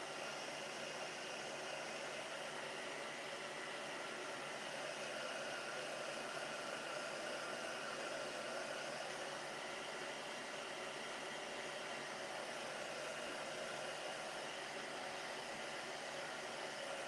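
Heat gun or hair dryer blowing steadily over green paint to dry it, a continuous even whoosh of air and motor hum that holds unchanged throughout without any talking.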